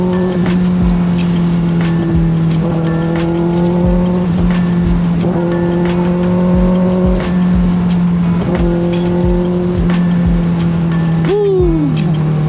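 A Kawasaki ZX-6R motorcycle on a night ride, its engine loud and close with repeated throttle blips that rise and fall in pitch over a steady drone.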